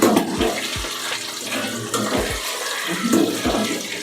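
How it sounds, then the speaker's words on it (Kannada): Chicken kabab pieces fry in hot oil with a steady, dense sizzle and bubbling, punctuated by soft low thumps, close and fairly loud with no talk. "ಇವಾಗ ಈ ರೀತಿ ಎಣ್ಣೆಗೆ ಹಾಕ್ಬಿಟ್ಟು 10 ನಿಮಿಷ ಇದನ್ನ ಎಣ್ಣೆಲಿ ಫ್ರೈ ಮಾಡಬೇಕು"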